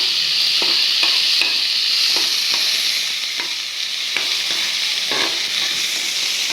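Onions fry in hot oil in a pan, browning to golden, with a steady loud sizzle broken by several distinct scraping stirs of a spoon.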